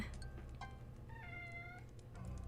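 A cat meows several times during a Halloween-themed video game session, short high-pitched calls followed by a longer drawn-out meow, moderately faint over a steady low background hum.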